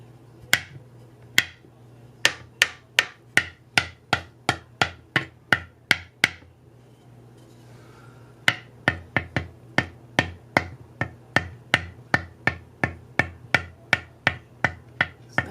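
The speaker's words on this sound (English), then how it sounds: "Now for the drum." Handmade gourd drum struck in a steady run of crisp, sharp hits, with a short pause midway before the beating resumes; no talking.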